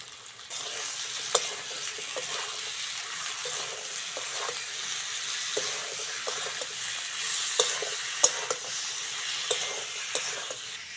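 Spice masala with ginger-garlic paste, tomato and peas sautéing for a fish curry, giving a steady close sizzle broken by soft scrapes and taps of a spoon stirring the pan, with no talking.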